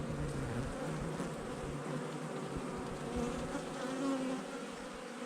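Honeybees in an opened hive, with the queen present, make a dense, continuous buzz of many insects close by, steady and alone with no voices.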